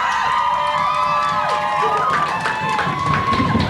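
A crowd gathered outside a studio window cheers and shouts during a 1997 MuchMusic Radiohead interview, with voices rising and overlapping in a steady, lively roar.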